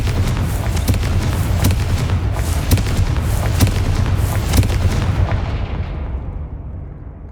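A Confringo explosive spell blast in the Hogwarts Legacy video game: a dense, loud, rumbling barrage of booming impacts and crackling bursts that holds steady for several seconds, then fades away.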